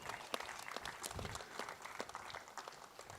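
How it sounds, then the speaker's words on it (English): Golf tournament crowd applauding the champion after the final round of the Tamil Nadu Open in Coimbatore, a sustained spread of many hands clapping at moderate distance, steady and even throughout. "Big round of applause for the champion."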